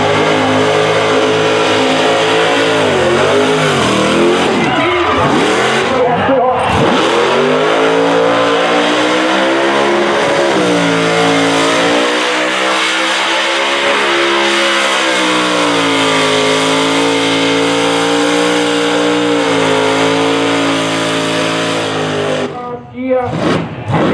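A burnout car with an 8,500 chip revs hard and holds at a sustained screaming pitch for most of the stretch, loud and close, dipping briefly near the start and cutting off at the end.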